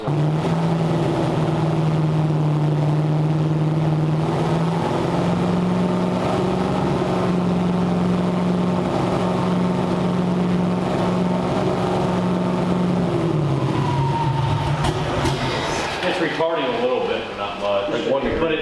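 Twin-turbo 427 LS V8 swapped into a Camaro idling loudly at its first startup, a steady droning rumble with a shift in pitch near the end and brief throttle activity.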